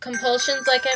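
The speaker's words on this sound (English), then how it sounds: "That was my phone." A mobile phone rings with a repeating electronic ringtone, loud and close, over a woman's speech throughout the second.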